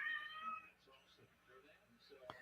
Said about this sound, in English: My cat is howling to go outside